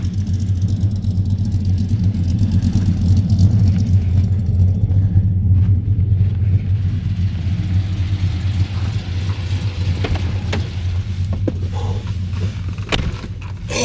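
A truck's engine idles with a steady low rumble in cold, snowy winter weather, loud and close throughout as someone climbs into the cab, with a few brief knocks and clatters near the end.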